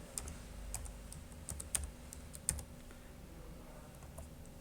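Typing on a computer keyboard while entering data into an Excel spreadsheet, light scattered keystrokes at close range with a few sharper clicks, over a quiet background hum.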